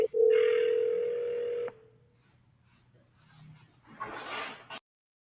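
A telephone receiver gives a loud, steady dial tone for about a second and a half, then falls quiet. A short, louder burst of dialing and line noise follows near the end.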